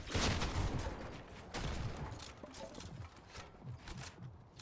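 Hand cannon gunshots in the Fortnite video game, several sharp game-weapon cracks in quick bursts amid busy in-game action and noise, loud at first and then thinning out.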